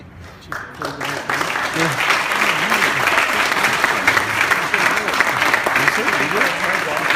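A crowd at a hall of fame induction ceremony breaks into applause after a quiet opening, swelling into a loud, sustained, even wall of clapping that carries on to the end.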